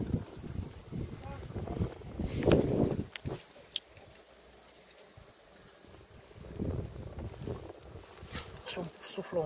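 Gusty wind buffeting the microphone in low rumbling bursts beside beehives, strongest at the start and again toward the end, with faint activity in the background.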